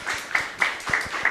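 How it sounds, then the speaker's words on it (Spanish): A small group applauding for a study group in a church Bible class, a short, faint burst of scattered claps at a steady rhythm with no talking. "Un aplauso para el grupo 2, por favor."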